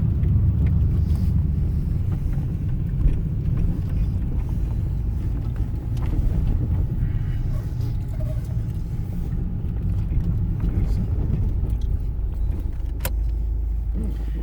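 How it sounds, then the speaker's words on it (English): A home-built electric car drives along with a steady, continuous low rumble of road and drivetrain noise from inside the cabin. There are no engine revs and no talk. "Nice thing about this electric car is you stop and you're not using any energy."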